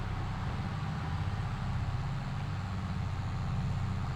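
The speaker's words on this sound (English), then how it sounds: "you can hear the engine sound bouncing off the walls inside the buildings" In Farming Simulator 22, a tractor engine drones steadily inside a covered bridge, a low continuous rumble with a reverberant, enclosed echo and no voices.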